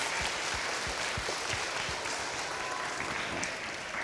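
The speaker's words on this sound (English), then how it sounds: "let's give Mr. Rashad Jennings one final round of applause for sharing his life journey with us." A school audience applauds a guest speaker at a reading challenge event, with steady, dense clapping from a large crowd that continues evenly throughout.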